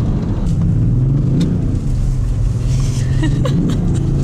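A Lamborghini Huracán EVO drifts down a ski slope, its engine droning and revving with rising and falling pitch, fairly close and loud, with no talk.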